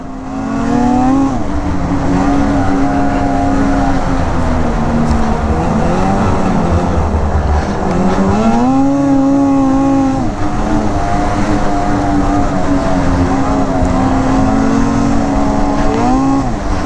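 A 2020 Arctic Cat Riot snowmobile engine drones loudly and steadily throughout a test ride, its pitch rising and falling with throttle changes, including a noticeable surge around the middle, with no talking.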